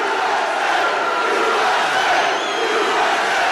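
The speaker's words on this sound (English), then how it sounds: "Rowdy crowd there, and speaking to supporters in Warren, Michigan, just north of Detroit" Rowdy crowd at a Trump rally in Warren, Michigan: a large, loud, sustained roar of cheering supporters, a dense unbroken wash of voices with no single speaker standing out.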